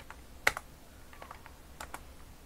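A few quick, sharp keystrokes on a computer keyboard, typed as a shortcut in an Excel and Hangul mail merge setup, with a loud key press and several softer taps spread over a quiet background.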